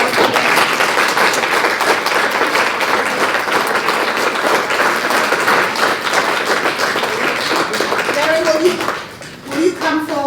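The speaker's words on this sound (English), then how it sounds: "Can we give all the essay winners another round of applause?" Loud applause from an audience at a Black History Month celebration honoring essay winners, dense clapping that holds steady then tapers off near the end as a voice begins speaking.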